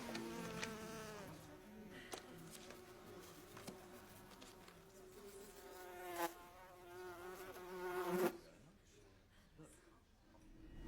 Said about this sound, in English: I dare say that buzzing is frightfully loud.